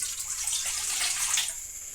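Water and milk poured from a cup into a pan for semolina kesari, a steady splashing stream running close and fairly loud for about a second and a half before tapering off.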